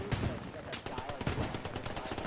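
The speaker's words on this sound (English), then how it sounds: "I just deploy my gun and shoot Germans," Rapid gunfire from a deployed machine gun in the World War II shooter Hell Let Loose, set at Remagen, with dense repeated bursts throughout alongside other battlefield shots and some voices.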